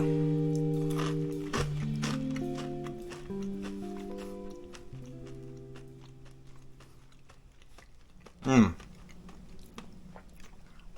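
Close chewing and biting of fried common carp, with soft crunchy, wet mouth sounds repeating steadily, some low tonal background hum and one louder burst near the end.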